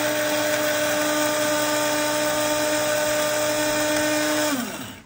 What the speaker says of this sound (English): You could see it was taking 150 watts to grind up my coffee.